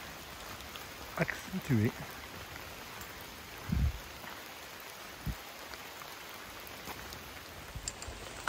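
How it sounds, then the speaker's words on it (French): Steady rain patters on a plastic poncho throughout, a constant close hiss of drops, with a voice speaking briefly over it. "On entend les gouttes"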